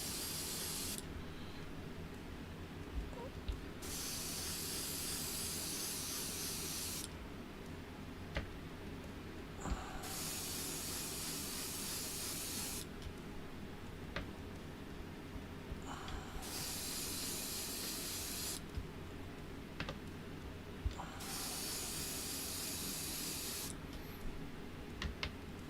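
An airbrush sprays thinned Createx paint onto a model fuel truck in four separate bursts of steady hiss, each a few seconds long, with quiet pauses and faint ticks between them.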